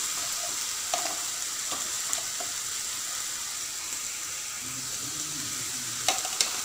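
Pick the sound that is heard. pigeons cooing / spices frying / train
spices frying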